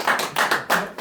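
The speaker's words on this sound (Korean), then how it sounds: "자, 박수를 좀 해야 될 것 같아요." Church Bible study group clapping together on cue: about five sharp, evenly spaced claps in quick unison rhythm, close and fairly loud, within roughly one second.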